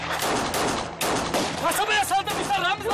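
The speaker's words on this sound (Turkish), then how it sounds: "Levent, kasabadan silah sesleri geliyor." Gunfire echoing from a nearby town in a period TV drama, a dense burst of overlapping shots crackling continuously under people talking.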